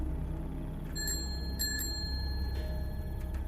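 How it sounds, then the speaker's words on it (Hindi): A bicycle bell rings in a few bright dings over a low rumbling background, clear and fairly close. "घंटी फिर बजी"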